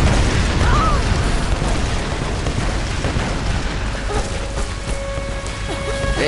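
Tomb Raider game explosions rumble and crackle in a loud, dense burst of debris and blasts, with faint game tones and a brief voice-like sweep layered in the mix.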